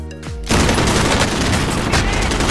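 Sustained burst of gunfire in the first-person shooter Modern Warfare, loud and continuous after a brief lead-in, dense close-range shots filling the clip with no talk over it.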